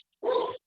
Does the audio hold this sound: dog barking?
yes